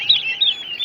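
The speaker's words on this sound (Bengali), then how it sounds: "এগুলো টার্কি মুরগির বাচ্চা।" Turkey chicks give quick high chirps close by, several short peeps in rapid succession.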